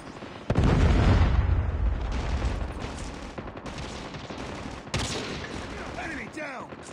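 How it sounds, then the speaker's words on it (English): A Predator missile strike in Call of Duty Mobile hits with a loud, heavy explosive boom that rumbles on as a long blast tail, followed by a second sharp impact and some game sound effects near the end. "Predator missile inbound."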